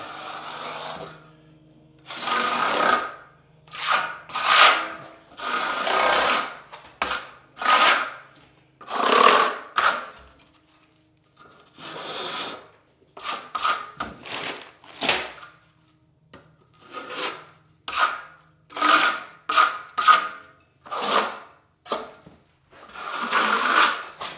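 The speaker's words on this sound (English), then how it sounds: "I'll use a flat trowel just to give it all one more good embedment into, really embed that sheet membrane in." A flat trowel presses a sheet membrane into sealant on a curbless shower pan, giving repeated short scraping strokes in bursts with brief pauses between, close and moderately loud.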